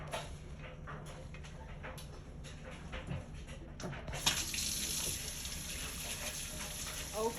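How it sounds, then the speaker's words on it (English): Tap water runs steadily into a kitchen sink as food is washed under it, a continuous close splashing rush that swells louder toward the end, with clattering handling noises mixed in. "Let's wash it over here in the sink."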